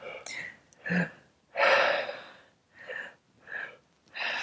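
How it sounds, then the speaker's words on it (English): Deep breathwork breathing from a person lying on their back during a guided session: a series of strong, close breaths at a steady rhythm, some drawn in with audible gasps, each separated by short pauses. "just start breathing"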